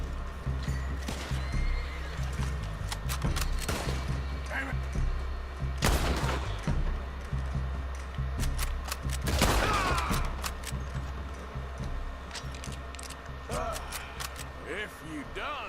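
Gunfire in Red Dead Redemption 2, sharp repeated shots scattered over horse whinnies and clip-clopping hooves, several loud reports standing out around the middle.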